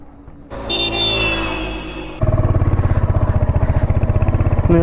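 Motorcycle ridden slowly on a road from Kolkata toward Kalna, the engine droning loudly before dropping into a fast, even chugging pulse, heard close with no talk.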